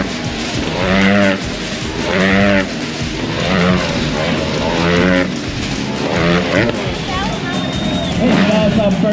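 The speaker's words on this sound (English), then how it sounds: "one person is standing in the middle while one motorcycle is going around" A motorcycle engine roars in rising and falling waves as it circles continuously inside a globe of death at a bike festival, loud and close, with crowd noise beneath.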